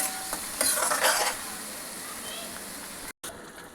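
Brinjal pieces fry in a pan for a cashew eggplant curry, giving a constant crackling sizzle, with stirring scrapes at the start and a brief cut-out near the end.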